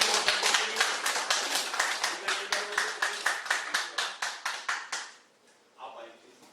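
Audience members at a group session clap in rhythmic unison, a steady string of sharp, evenly spaced claps that stops abruptly, followed by a brief faint sound and near quiet.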